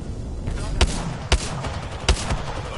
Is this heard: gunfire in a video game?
yes